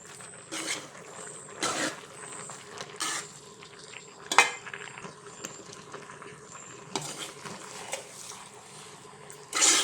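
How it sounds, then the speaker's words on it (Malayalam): Grated coconut is stirred into aviyal vegetables in a pot. Soft, scattered scrapes and clanks of a utensil against the vessel come at uneven intervals, fairly quiet overall. "അവിയലിനുള്ള തേങ്ങ എല്ലാം ഇട്ട് കൊടുത്തതിന് ശേഷം നമുക്കിനി നന്നായിട്ട് ഇളക്കി യോജിപ്പിക്കാവേ"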